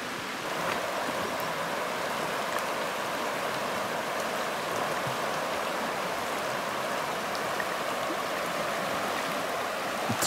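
A swollen mountain river rushes through the Polar Urals taiga in light drizzle, a constant broadband roar of flowing water with faint rain patter, steady and close throughout with no voices.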